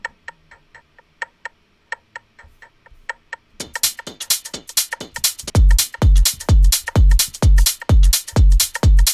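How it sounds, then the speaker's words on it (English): Extra percussion layer in a house beat: crisp clicky ticks repeat in a sparse pattern, then a dense groove joins with thumping kicks and bright hits, looping steadily and loud with no voices. "And then there's an additional percussive layer."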